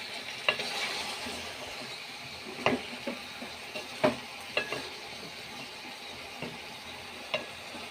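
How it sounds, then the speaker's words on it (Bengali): Mixed vegetables, eggplant, beans, cauliflower and potato, sizzle in a pan, with a steady low fry and irregular scrapes and clicks of a spatula stirring them, close by and without talk. "এই আর কি কয়েক পদের মিলে সব সবজি রান্না করতেছি"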